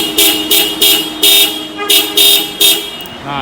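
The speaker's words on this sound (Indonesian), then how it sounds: "Coba aku klakson dulu ya. Dengar suaranya sebelum kita ganti nih." Stock horn of a 2011/12 Toyota Camry 2.4V sounding in a series of about seven short loud honks in quick succession, close by and alone.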